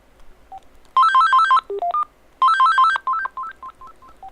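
A phone gives off two short bursts of rapid electronic warbling, each followed by a string of single beeps and tones like keypad presses, all loud and close with brief gaps between.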